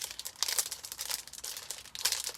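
Paper stencil being handled and cut apart with scissors close up, a series of soft crinkles, snips and rustles in quiet, uneven bursts.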